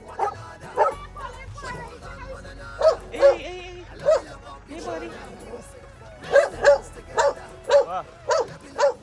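A small frightened dog barks and yips in sharp repeated bursts, close and loud, with whimpering between, while someone speaks soothingly to it.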